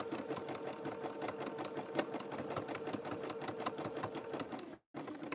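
An old sewing machine runs steadily while cord is stitched for a macrame rope handbag, a rapid even whirring chatter close by that cuts out abruptly for a moment near the end before resuming.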